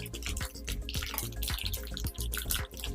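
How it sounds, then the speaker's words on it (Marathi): Mustard seeds and cumin spattering in hot oil for a Marathi vegetable tempering, a dense run of sharp pops and crackles over a steady sizzle, close and fairly loud with no talking. "तेल गरम झाल्यानंतर अर्धा चमचा मोहरी अर्धा चमचा जिरं"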